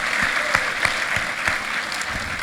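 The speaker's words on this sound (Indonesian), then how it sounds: "Let's give the Lord a big hand for that." A church congregation at a revival service in Ambon gives a short burst of steady applause, moderately loud and fairly distant, with the hall's ambience behind it.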